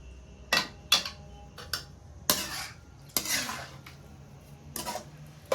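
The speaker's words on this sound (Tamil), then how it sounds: "நான் இப்போ ஒரு தடவை கலந்து விட்டுக்கிறேன்" Carrot halwa simmering in half a litre of milk in a pot, stirred with a metal spoon: several distinct scraping and clinking strokes against the vessel, separated by quiet gaps, with no speech.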